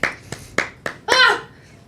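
A few people clap in four sharp, spaced claps, and then a voice speaks briefly in a light, scattered celebration on a jobsite.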